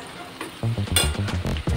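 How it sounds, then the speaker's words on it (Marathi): Red chillies fry in an oil tempering for lasooni palak, with a close crackling sizzle and rhythmic stirring scrapes that sound in short bursts and contain no talk. "आता लाल मिरच्या पण आपल्या चांगल्या तळत आल्या का"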